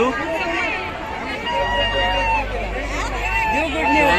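Crowd of pilgrims on a hill temple path during Shivaratri in Pune: dense overlapping voices and chatter fill the air continuously, with a low rumble underneath and individual calls rising above the babble.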